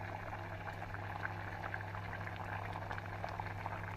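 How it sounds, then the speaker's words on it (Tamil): Yam gravy (karunai kizhangu kulambu) bubbles in a pot at a steady boil, giving a faint continuous simmer of small pops and gurgles with no one talking. "5 நிமிடம் குழம்பு நன்றாக கொதித்து விட்டது."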